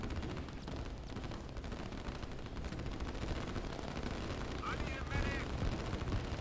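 Artillery and gunfire from the real-time strategy video game Line War rattle in a dense, continuous barrage with sharp bursts, heard under a commentator's talk.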